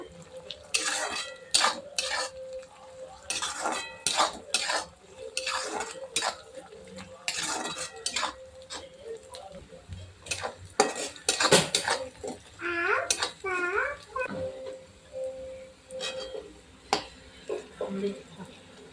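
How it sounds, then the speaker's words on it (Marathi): Onion is sautéed and stirred in a pan until brown, making repeated metal scrapes and clinks of a utensil against the cookware in irregular bursts, with a voice talking at times over the clatter. "कांदा ब्राऊन होईपर्यंत चांगला परतून घ्यायचा."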